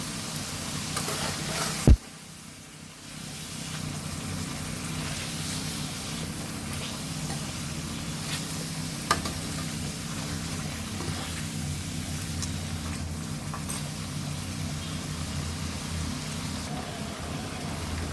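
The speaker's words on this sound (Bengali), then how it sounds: "এখানে মাছের মাথাটা দিয়েছি এটা ভিন্ন করে একটু আগে কষিয়ে নেব" A fish head sautés in a pan with onion and garlic paste, giving a steady, even sizzle that runs throughout with no talking.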